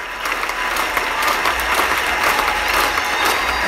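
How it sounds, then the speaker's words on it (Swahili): A church congregation claps loudly and steadily in a dense, continuous wave of applause filling the room, with no voices standing out. "Ongeza makofi mengi kwa kuona mwaka"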